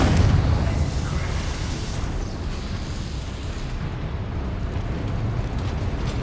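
A burst of explosive spell-casting from combat in the Hogwarts Legacy video game, a loud boom at the start fading into a sustained rumbling blast that carries on steadily with no talk over it.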